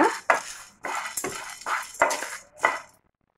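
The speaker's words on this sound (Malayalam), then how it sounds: "ഇതും ലോ ഫ്ലെയിമിൽ വെച്ച് തന്നെ വറുത്തെടുക്കുക." Half a cup of roasted chana dal is dry-roasted over a low flame in the same pan used for peanuts, a spatula scraping and clinking against the metal in repeated close strokes before falling silent.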